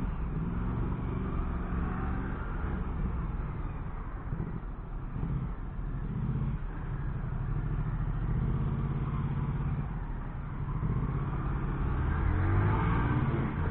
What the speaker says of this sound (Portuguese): o tamanho dessa moto